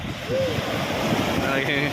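Surf of a rain-flooded, muddy brown sea rolls in a steady broadband wash with wind buffeting the microphone, while a voice talks briefly over it.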